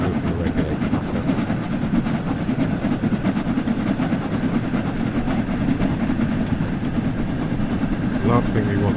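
A steam train on the West Somerset Railway in Train Sim World 4 at a steam gala runs with a dense, rumbling chuff and rattle of rolling stock. The sound is continuous and fairly loud, with a brief sharper hiss near the end.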